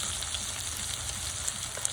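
Pangas fish fry in hot oil, giving a continuous soft crackling sizzle at moderate distance, with a few sharper pops near the end.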